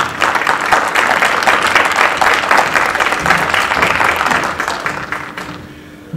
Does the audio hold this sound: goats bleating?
no